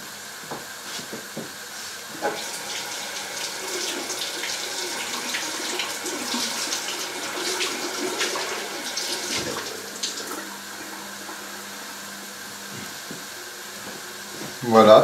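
Freshly picked wild spring herbs are rinsed under a running kitchen tap, giving a continuous hiss of flowing water with small splashy changes as the herbs move, close by, and a brief louder splash at the end.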